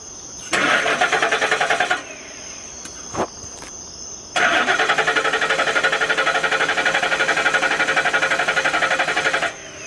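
A car seized by police has its engine cranked, a close, rapid, rhythmic churning in two long attempts, with a brief knock between them. The engine never catches.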